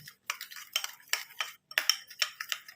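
A spoon clinks and scrapes around a bowl while mixing a tomato, lemon and curd face pack, short clustered stirring strokes with brief pauses, close and clear, no talking.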